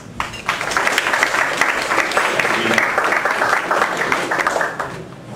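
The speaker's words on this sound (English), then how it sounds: "So I'd like a warm round of applause to welcome Joel." An audience gives a warm round of applause to welcome a speaker at a marketing talk, steady full clapping that swells quickly, holds evenly and tapers off at the end.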